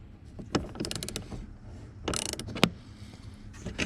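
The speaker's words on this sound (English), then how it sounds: "I'm going to get in here with my 10mm deep well socket, because then that's going to hold my ratchet up a little bit higher" A ratchet turning a 10mm deep well socket to loosen a bolt, short bursts of quiet ratcheting clicks spaced apart with a sharper click near the middle, close up with no talk.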